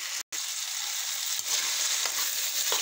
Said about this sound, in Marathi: थोडा वेळ अजून फ्राय होऊ दे